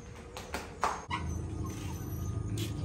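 A pet dog named Codie whimpers and gives a few short yips before being fed in a rural home, with brief sharp bursts over a continuous low background murmur.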